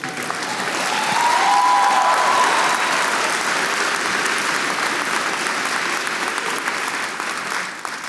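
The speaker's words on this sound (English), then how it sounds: "And you can clap for that." An auditorium audience at an academic awards convocation breaks into sustained, dense applause that swells in the first seconds, holds steady and tapers off near the end.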